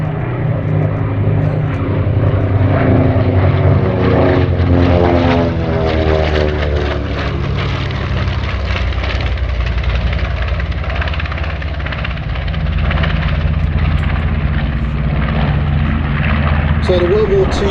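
A light, agile World War II propeller aeroplane without heavy radios, bombs, guns or turrets flies a display at the 2024 Sywell Airshow, its engine droning steadily and loudly with a rising and falling pitch as it passes, under a commentator talking.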